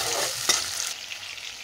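Chopped tomatoes sizzle loudly in a hot pan as they are stirred for a curry, with a steady hiss and a sharp scrape of the spoon near the start.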